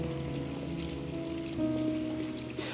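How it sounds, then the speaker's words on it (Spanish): Water flows steadily in a garden, a continuous soft trickling and splashing wash that holds even throughout, with faint tonal hum beneath. "tenemos también hermoso sonido del agua"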